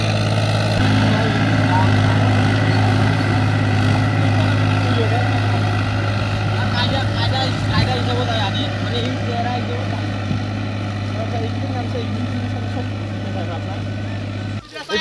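A tractor drives through a running river, its engine a steady, loud, low droning hum with water noise underneath, while people talk nearby throughout.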